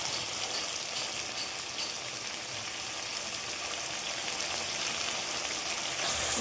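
Spice paste frying in hot oil with salt and turmeric for a Bengali aar fish curry, a dense continuous hiss and crackle like rain, steady and fairly faint, with no voices.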